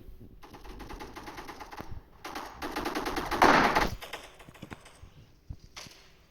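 Rapid gunfire in a Roblox shooting game comes in dense automatic bursts, loudest in the middle, with choppy gaps and a few softer clicks toward the end.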